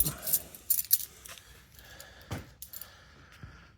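Car keys jangle in a few quick metallic bursts, close by, with a voice talking at points in between. The keys belong to an old car being checked over for a revival attempt.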